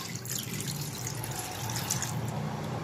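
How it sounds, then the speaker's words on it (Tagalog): Water runs into a cooking pan holding garlic and onion, a steady close pouring and splashing with no talking. "Lalagyan na natin ng tubig, no?"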